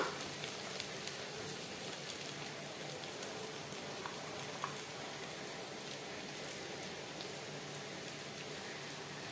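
A medium-sized onion, chopped small, sizzles in a pan for potato fry, a steady, fine, rain-like hiss with faint crackles that holds evenly throughout.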